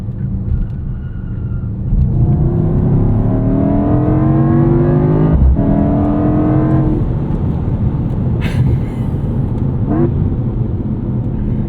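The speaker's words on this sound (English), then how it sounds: "I want you guys to see how this electric motor pulls me out of this corner." A 2024 Mercedes-AMG GT 63 S E Performance hybrid, held in third gear, accelerates hard out of a corner, its engine note climbing steadily in pitch for several seconds, loud and close, then settling after a sharp gear-change blip.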